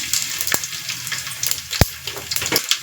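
Cumin and mustard seeds hit hot oil for a sambar tempering, giving a steady close sizzle with sharp crackles and pops scattered throughout.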